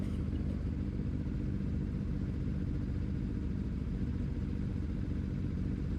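A GSX 250 racing motorcycle engine runs on a race circuit as a steady, moderately faint drone, with no pauses or clear revving changes.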